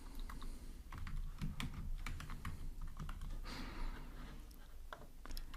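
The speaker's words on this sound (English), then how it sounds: "And here I'll type val" Rapid keystrokes on a computer keyboard as code is typed for an Android SQLite table statement, an irregular clatter of close, crisp taps running steadily throughout with no voices.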